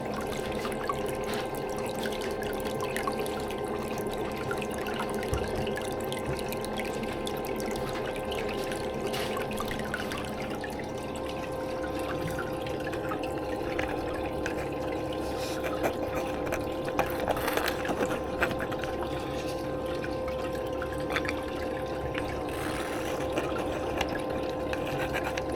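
Liquid is drawn up with a snuffer bottle: a faint, continuous run of trickling, slurping and gurgling water sounds lasting about half a minute, with no talk.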